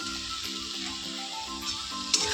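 Cabbage curry seasoned with garam masala is stirred in a frying pan, giving a soft, steady sizzle close by with faint scraping.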